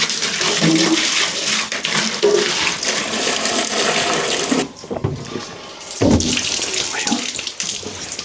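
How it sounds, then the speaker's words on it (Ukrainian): Tap water runs loudly into a container for chickens' drinkers on a Swiss farm, a hissing splashing flow that stops briefly about midway and then gushes again, with a few faint words spoken over it. "Ну і тепер що, набираємо водички."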